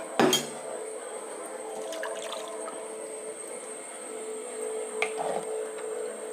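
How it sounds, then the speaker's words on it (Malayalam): Water poured into a pot of sambar, a brief splash at the start followed by a faint steady liquid trickle under a constant background hum, with a small clink later. "ഇപ്പോൾ ആവശ്യത്തിനുള്ള വെള്ളം നമ്മൾ ഒഴിച്ചു"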